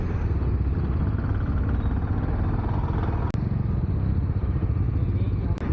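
A Bajaj Dominar 400 motorcycle engine fitted with a dB killer exhaust, a steady, loud, close rumble that drones without pause, with one brief click partway through.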